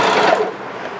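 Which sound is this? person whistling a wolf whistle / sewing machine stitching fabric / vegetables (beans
sewing machine stitching fabric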